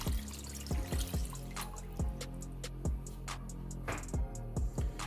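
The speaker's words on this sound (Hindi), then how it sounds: "अब मैं इसके अंदर 2 गिलास पानी ऐड करूंगी।" Water poured from a glass into a cooking pot heating on a stove, a steady splashing flow broken by several distinct drips and glugs as the glass empties, close and alone.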